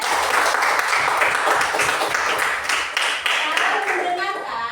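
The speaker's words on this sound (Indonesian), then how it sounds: "Beri tepuk tangan di si Madan" Sixth-grade pupils in a mathematics classroom clap together for a classmate. The quick, dense clapping runs throughout and stays fairly loud, with voices mixed in.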